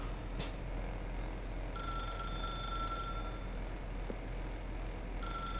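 A telephone in the video game The Stanley Parable rings in repeated electronic trills separated by short pauses, clear and moderately loud over a low steady background hum.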